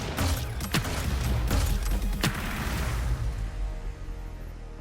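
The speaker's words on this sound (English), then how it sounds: "This is a grenade launcher." Grenade launcher fire in the shooter game Hyper Scape, with several booming bursts and sharp blasts over a dense, continuous roar of game combat noise that stays loud throughout.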